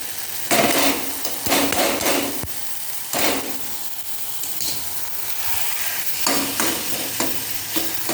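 Chhena frying in a pan with spices, chopped and stirred with a metal spatula: steady close sizzle broken by repeated sharp scraping knocks of the spatula against the pan, no talking.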